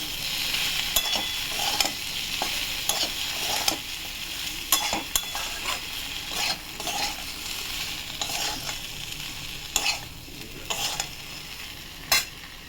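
Potatoes fry in a pan with chili and turmeric powder, a continuous close sizzle under repeated scraping strokes of a spatula and occasional sharp knocks against the pan.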